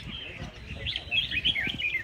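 A competition songbird calls in quick, short bright bursts, repeated several times in a row, close and clear over faint background noise.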